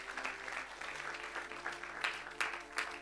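A church congregation claps for the Lord during a deliverance service, a dense patter of many hands at fairly low level with louder bursts and faint voices underneath.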